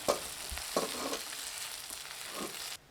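Onion and tomato sautéing in a pan, a steady close sizzle and crackle broken by several scraping stirs of a spoon, with no talk, ending in a sudden cut.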